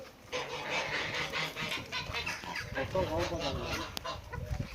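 A chicken clucks repeatedly nearby, a run of throaty, uneven calls with some faint background noise.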